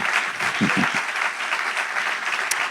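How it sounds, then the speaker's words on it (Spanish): A church congregation claps steadily for a few seconds, a dense, lively applause filling the room, with a brief voice or two underneath. "Demos un aplauso al Señor."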